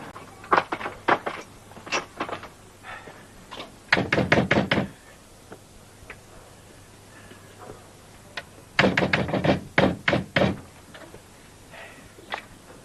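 Someone knocks on a house door in repeated bursts of rapid raps, loud and close, with pauses between the rounds of knocking.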